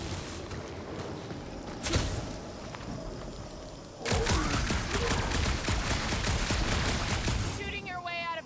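Gunfire in Marvel's Guardians of the Galaxy video game: a sharp shot near two seconds, then from four seconds a loud sustained burst of rapid firing and impacts over a rumbling background.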